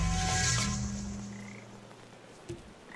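A cartoonish frog croak from the video game Papo & Yo rings out loud and close, then fades over about two seconds, with a small pop of game sound afterward.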